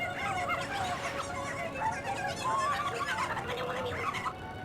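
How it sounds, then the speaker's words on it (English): Odd warbling, clucking bird calls ring out in Zelda: Twilight Princess, several overlapping chirps and trills sounding continuously and fairly loud over a busy game background. "Why are they making, like, weird bird noises in my ear?"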